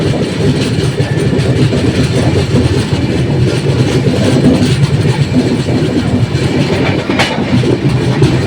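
A long-distance passenger train on the Kolkata to Mumbai route rumbles along the rails, close and loud, with a steady roar, rhythmic clickety-clack and carriage rattle running throughout, no talk.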